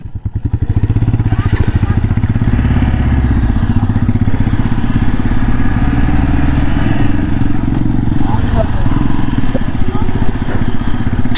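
Two motorbikes rolling into Mirik Lake in Darjeeling, a loud, close, steady engine rumble with a rapid throbbing beat that runs the whole time, broken only by slight clatter.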